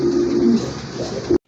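Pigeons at a seller's coop giving deep, throaty coos, close and fairly loud, one sustained call followed by a shorter one before the sound cuts off abruptly.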